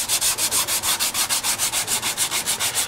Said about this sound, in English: We'll do a little more sanding, because I think it's still just a tiny bit proud.